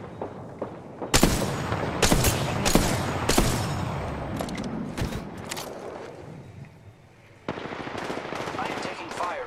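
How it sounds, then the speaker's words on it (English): Automatic gunfire in the video game Apex Legends, with loud rapid bursts that repeat through most of the span, thinning briefly before another close burst near the end. "I am taking fire, friends."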